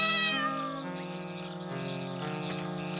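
A small kitten meows in several high, drawn-out cries, close and clear, over a continuous chirping of insects or crickets in the background.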